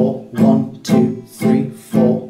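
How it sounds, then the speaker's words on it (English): Acoustic guitar downstrokes for a song, four evenly spaced full strums, each a bright broadband attack ringing into the next, played alone and close with no voice. "We're simply only going to be playing downstrokes on every beat of the bar."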